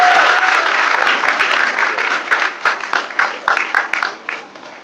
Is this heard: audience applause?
yes